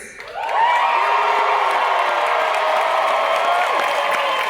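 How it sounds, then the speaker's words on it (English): A large convention audience at a New York Comic Con Avatar 20th anniversary panel cheers and applauds in a dense, sustained roar that swells quickly and holds steady, with whoops over it. "The crowd cheers!"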